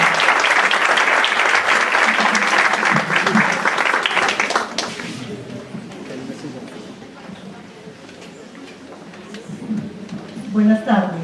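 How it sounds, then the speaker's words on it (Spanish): Audience applause welcomes a speaker at a conference on child abuse prevention in Colombia, loud for about five seconds and then fading to scattered claps and murmurs, with a voice rising near the end. "Un aplauso para ella."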